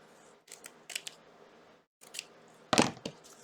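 Scissors snipping needlepoint fabric up close, several short crisp cuts in small groups separated by quiet pauses, with one louder, heavier snip near the end.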